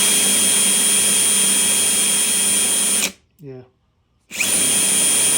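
Kawasaki KZ305 motorcycle engine held at wide open throttle, a loud sustained roar that cuts off abruptly partway through, leaves a short gap with a brief falling tone, then returns at full volume; a voice briefly speaks.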